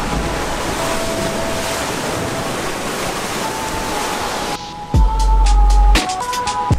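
Steady roaring surf washes at the sea caves of Leo Carrillo State Beach in Malibu, mixed with wind buffeting the microphone, then a few close thumps and knocks near the end.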